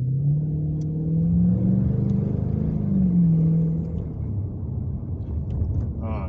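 A 392 V8 muscle car engine revving lightly under gentle throttle, a loud, close, deep rumble that rises and then settles back while idling on, with no other sounds over it.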